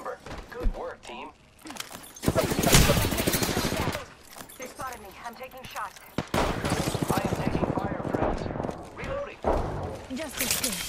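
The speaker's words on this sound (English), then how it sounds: "I'm taking shots. I am taking fire, friends." Gunfire in the video game Apex Legends rattles in loud rapid bursts with sharp single shots between them, mixed with game effects, while a player talks over the action.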